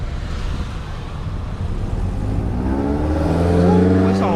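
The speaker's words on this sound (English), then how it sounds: "But let me see this MR2 drive off though." Toyota MR2 pulling away nearby, broad road rumble giving way to a climbing engine note with rising harmonic sweeps as it revs and accelerates, louder toward the end.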